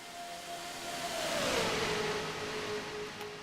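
A 1987 Ford Thunderbird stock car and other Thunderbirds race in a video game Winston 500, with a steady engine drone that swells and then drops in pitch as one car passes. No one speaks.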